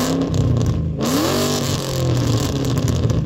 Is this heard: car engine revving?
yes